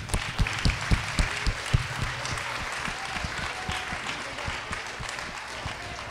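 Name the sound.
applause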